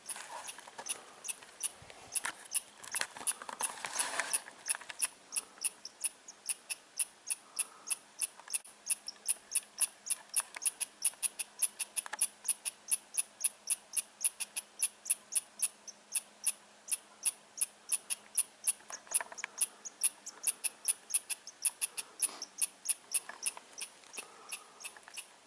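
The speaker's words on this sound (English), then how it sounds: "Squirrels, they're always making noise." Squirrels on a wooded ridge chatter in a long, faint run of rapid, evenly spaced clicks and chirps that keeps going for over twenty seconds, quiet and distant, with no one talking.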